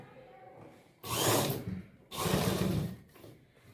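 A sewing machine stitching a pleat on a salwar, two distinct bursts of fast motor whirring, each about a second long, separated by brief quiet pauses, close and fairly loud.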